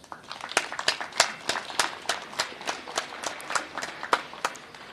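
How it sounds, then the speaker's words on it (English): A small gathering at an official event near the Oshikango border post claps for a local mayor, a thin, uneven patter of separate handclaps rather than a full roar. "Let's also give a round of applause to His Worship Darius Shalukeni for welcoming us"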